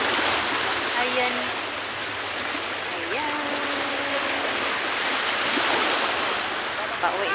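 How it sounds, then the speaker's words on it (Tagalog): Broad, steady rushing of ocean surf washes continuously, with faint voices talking in Tagalog in the background over the water. "Ayan ang dagat. Ayan ang alon. Alon-alon pa."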